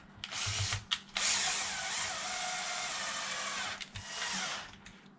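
A power driver tightens screws on the motor mount of a Traxxas X-Maxx 8S RC car, running in a steady whir with short pauses and stops between screws, close and moderately loud.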